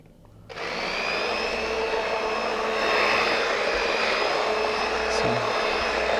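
A hand blender purees split pea soup at maximum speed, starting abruptly and then holding a loud, steady whirring drone close by.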